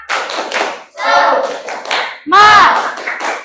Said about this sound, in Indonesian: Coba mana semangatnya? Tepuk semangat.